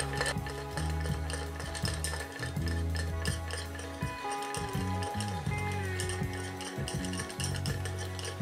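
Ice cubes clink and rattle against a mixing glass as a spoon stirs a sambuca cocktail in quick, continuous circles, close and fairly quiet.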